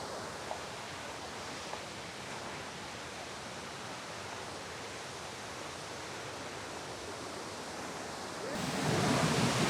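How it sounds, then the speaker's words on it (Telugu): Kothapalli waterfall flowing as a steady, dense broadband rush of water, close and constant with no voices, swelling louder and brighter in the final second. "ఈ వాటర్ ఫాల్స్ అయితే ఎప్పుడు రన్నింగ్లోనే ఉంటుంది"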